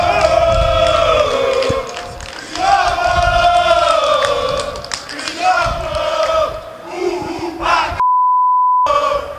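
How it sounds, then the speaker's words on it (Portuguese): Vasco fans protest at São Januário stadium against coach Cristóvão Borges over poor results, a loud crowd chanting and shouting in rising and falling bursts, with one long censor beep near the end. "um grupo de torcedores veio até São Januário para protestar pela sequência de maus resultados no campeonato"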